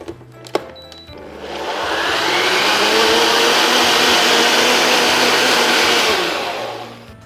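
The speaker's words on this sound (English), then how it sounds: "Blend." A blender whirs up a creamy dip with lemon juice and olive oil, ramping up after a few light knocks into a loud, steady roar that holds for several seconds before winding down, close and alone.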